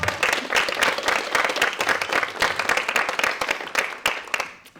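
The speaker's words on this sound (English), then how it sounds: "So please, a huge round of applause for them." Loud, dense applause from a conference audience on Slovenian cinema accessibility, a sustained wash of many hands clapping close by that tapers off at the end.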